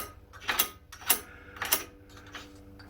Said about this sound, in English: the special tool for tightening these up